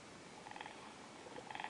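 A soft, steady cat purr from a tablet app hums quietly in a close, rhythmic rumble for a moment.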